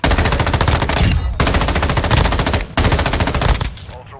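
Rapid automatic gunfire from the video game Call of Duty DMZ, loud and sustained, coming in three long bursts separated by brief pauses.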